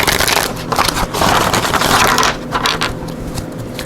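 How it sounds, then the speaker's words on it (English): Tarot cards are riffled and shuffled in quick bursts of papery crackling flutter, close up, with short pauses between the shuffles. "Okay, one more shuffle here."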